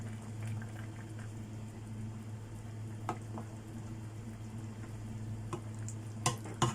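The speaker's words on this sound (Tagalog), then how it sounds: "Yan, kumukulo na." A pot of pork adobo with mushrooms bubbles at a steady boil with a low rumbling hum, punctuated by a few brief clinks and taps near the end.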